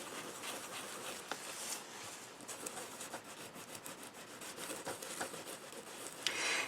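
Dry, continuous close scratching as a tool scrapes black coating off embossed, stenciled squares, with faint rasping strokes and a few small ticks, quiet and steady, no talking.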